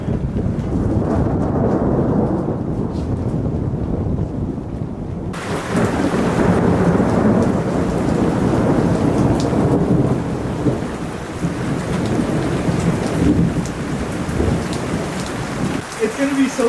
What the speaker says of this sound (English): and the rain is back, and the wind is back